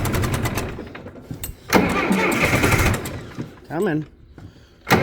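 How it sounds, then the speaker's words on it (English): A John Deere 2350 tractor engine cranks and fires up on a cold day, with grinding starter bursts giving way to a loud mid-pitched running engine, while someone speaks briefly nearby. "This tractor should just fire right up."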